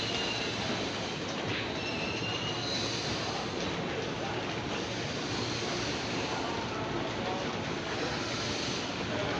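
Busy KRL commuter rail platform at Manggarai station during evening rush, with a steady dense roar of train movement, rolling wheels and squealing rail noise filling the whole stretch, crowd murmur blended underneath.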